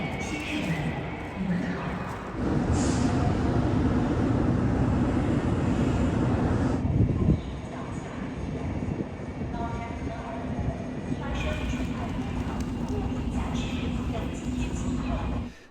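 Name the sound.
railway station with trains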